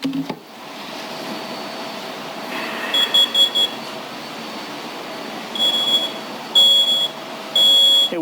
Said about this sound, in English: 5 seconds is all it took for the photoelectric smoke alarm to go off